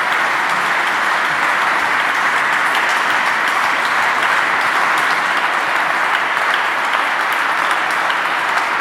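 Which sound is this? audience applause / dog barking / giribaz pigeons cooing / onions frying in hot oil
audience applause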